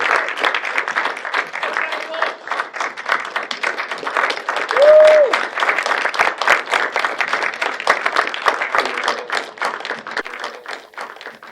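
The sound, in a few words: audience applause for the film Cod and Chips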